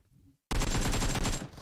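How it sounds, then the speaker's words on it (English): Gunfire in the battle-royale game BGMI during a BGIS 2023 esports match: a sudden, dense burst of rapid automatic shots that lasts about a second and then cuts off. "They certainly have heard the gunshots"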